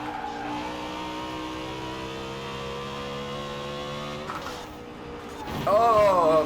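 A BMW M3 GTS engine in Forza Horizon 4, driven with a Thrustmaster wheel, drones at high revs in a steady, loud tone that dips briefly and then climbs into a rising rev near the end.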